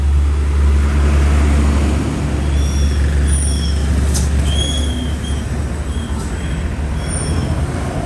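A diesel engine on an MN99s machine is revved hard, a loud, steady, close mechanical roar that rises and holds for the whole stretch with no pauses.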